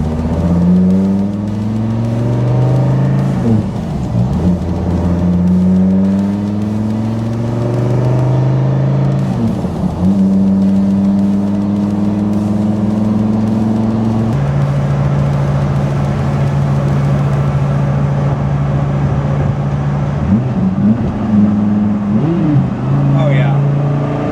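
A Dodge Viper engine with a new GCC triple disc clutch hums and revs up and down repeatedly, rising and falling in pitch, with a person talking over it.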